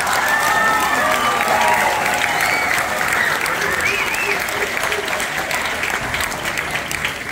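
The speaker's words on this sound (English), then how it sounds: "let's just give these guys another round of applause." A middle school concert audience claps in steady, dense applause that fills the whole stretch, close and continuous, with a few scattered voices and light cheers mixed in.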